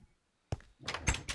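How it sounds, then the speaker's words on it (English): A door opening in the Minecraft video game, a soft click followed by a louder wooden creak and thunk, close and brief with no talk. "Oh, open the door."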